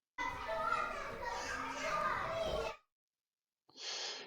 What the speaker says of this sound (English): we could have children indoor playing